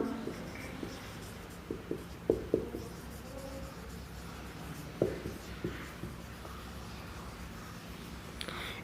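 Pen writing notes on paper close by, soft scratchy strokes and occasional light taps in short bursts over a quiet background.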